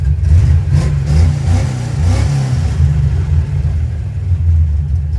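Loud car engine fitted with an Edelbrock 1405 carburetor running and revving, a deep rumbling drone rising and falling slightly over several seconds, with no talking.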